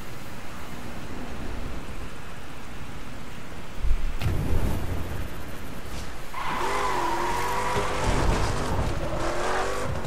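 Car driving in The Crew, a steady engine drone and road rumble, a heavier thump near the middle, then a rising and falling engine whine with tire noise, close and continuous, no talk.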